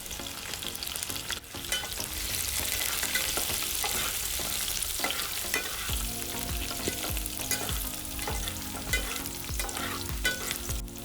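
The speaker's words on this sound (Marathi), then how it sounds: "ठेचलेल्या लसणाची चव चांगली लागते. लसूण जरा जास्तच घालायचा या भाजीला. कढीपत्ता टाकते." Crushed garlic and curry leaves fry in hot oil in a Konkan-style wild greens dish, giving a steady, loud sizzle with crackling pops and occasional stirring scrapes throughout, with no talk.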